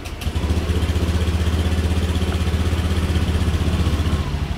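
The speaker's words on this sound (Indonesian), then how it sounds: "Motor saya nyalakan" A motorcycle engine idles steadily close up, a loud, even low-pitched putter with a slight clatter, running alone without any voices.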